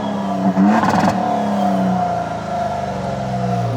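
A 2024 Toyota Tundra TRD Pro with a twin-turbo hybrid V6 revs its exhaust close by, a sharp rise in engine roar that settles into a steady, throaty drone.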